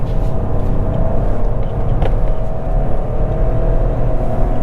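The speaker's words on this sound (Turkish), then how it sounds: "3 silindir sesini çok seviyorum" A three-cylinder engine in an Opel Astra L runs with a steady, loud, even drone and a low rumble that holds throughout.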